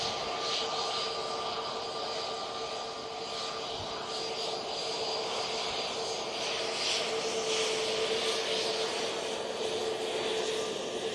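SAS airliner at Manchester Airport roars steadily at a distance, a broad continuous jet rumble and whine that swells slightly over several seconds with no talk.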